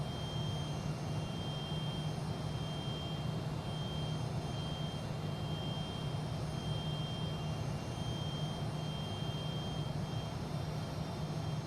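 A Fokker F28 jet climbing after takeoff in Microsoft Flight Simulator, a steady loud engine roar with a constant high whine on top, unbroken throughout.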